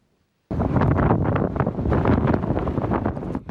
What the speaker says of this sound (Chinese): 大风一直吹